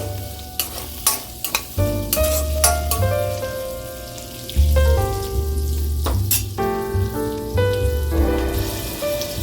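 Ingredients for paneer butter masala fry in oil and butter, a close bubbling sizzle with repeated clinks and scrapes of stirring over a low steady hum.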